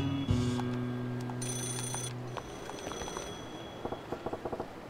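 A payphone rings in Yakuza 0, with a steady tone early on, then a series of quick, evenly spaced trilling rings that grow clearer toward the end over low game ambience.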